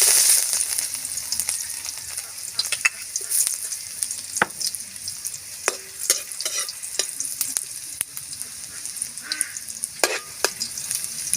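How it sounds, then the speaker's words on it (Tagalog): Garlic sautéing in a pan for a Filipino pancit puti, with a steady sizzle and frequent clacks of a utensil stirring and scraping, clear and close without any talk. "Magigisa na po tayo ng bawang."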